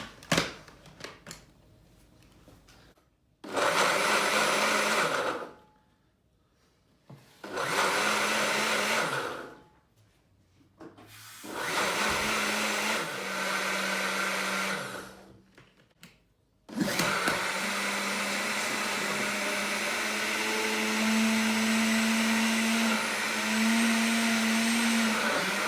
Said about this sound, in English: This is a Ninja blender, so it's quite good.